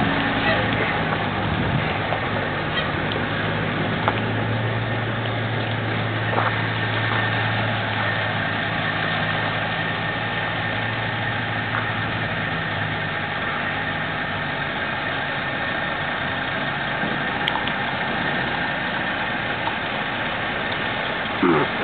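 A carnival generator engine running steadily, a constant mid-to-low mechanical hum with a faint vibrating drone, close and unchanging throughout with no break in its idle.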